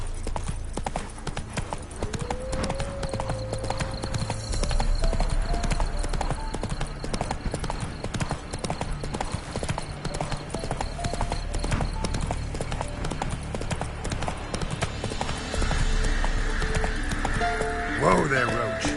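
Roach the horse galloping in The Witcher 3, a steady, rhythmic clip-clop of hooves that runs throughout, with a brief whinny and occasional voices over it.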